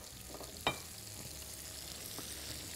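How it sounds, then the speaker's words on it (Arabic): Leeks fry in hot oil with a soft, steady sizzle, broken by one brief clink of a utensil and a few faint stirring sounds, fairly quiet throughout. "زيتنا سخن، انزل بقى بالكرات"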